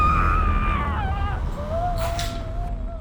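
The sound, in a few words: woman screaming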